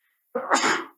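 A single close, sharp human sneeze on a podcast, short and loud, bursting out of silence with no talk around it.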